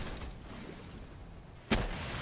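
Single sharp gunshot in the video game Palworld, a loud crack standing out alone near the end over a steady hiss of game ambience.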